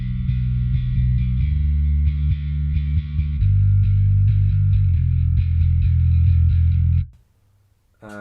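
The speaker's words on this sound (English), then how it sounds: "And then let's add some distortion to the Darkglass." Heavy distorted bass guitar through a Darkglass pedal with its distortion engaged drones in sustained, saturated notes with a buzzing fuzzy top, loud and up front, ending in a sudden cutoff and a moment of near silence.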